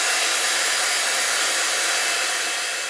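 A hair dryer force-drying freshly applied Pinflair Rust-it and Patina paint gives a loud, steady, close whoosh that runs unbroken throughout and fades slightly near the end, with no voices.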